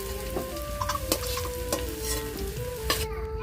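Potatoes sizzle as they fry lightly in a pan, with a constant crackle broken by sharp scraping clicks from stirring, while steady tones play in the background.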